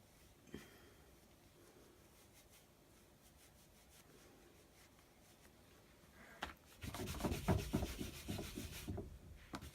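A rubber scrub board scrubs ink off a craft stamp. It is quiet for the first six seconds, then a loud, steady rubbing and scouring sound runs to the end, close and alone.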